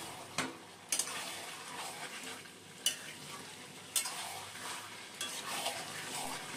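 Vegetables with green chilli, sugar and chopped coriander get stirred in a pan for fish-oil chochchori, with scattered scraping clicks of the spoon over a faint, soft sizzle, quiet and close, with no talking.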